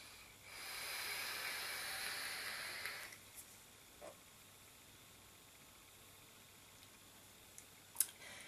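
A long exhale of vapour from a Vaporesso Gemini RTA vape fired at 47 watts, a steady breathy hiss lasting a few seconds, then fading out, with a couple of faint clicks afterwards.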